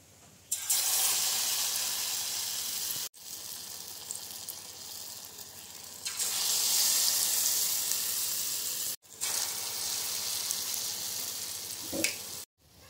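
Biscuit and peanut pakoras frying in hot oil in a home kitchen, a loud steady sizzle that swells and drops in sections, broken by brief silent gaps and a small clatter near the end.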